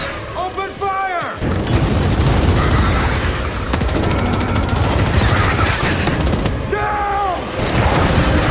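Heavy sustained gunfire in Gears of War, a dense roar of automatic weapons and blasts that runs for several seconds, with characters shouting over the shooting at the start and end.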